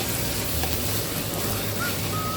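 Mashed eggplant bharta sizzles loudly and steadily in a pan while it is stirred, a dense close frying hiss with faint scraping underneath.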